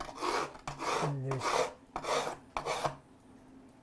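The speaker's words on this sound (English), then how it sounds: "I'm now going to go quickly around with the file as we did before" A hand file rasps along the sides of a wooden song stick in about five quick, close back-and-forth strokes, each a gritty scraping burst, with a single brief spoken word.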